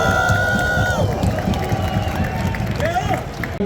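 A crowd at the Skank Fest comedy stage in Las Vegas cheers and shouts in a noisy, continuous roar. Nearby voices talk over it and bright tonal sounds cut through the din.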